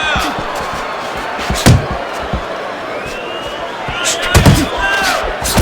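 Punches thud and slam in a Fight Night Champion boxing match, a few sharp impacts landing amid crowd noise and running commentary.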